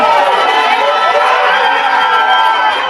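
A crowd of supporters cheers and shouts outside a courtroom just after a civil jury verdict of liability for alienation of affection, with loud, dense, sustained cheering and chatter throughout.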